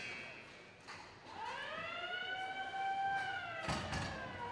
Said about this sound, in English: the buzzer for the end of the first period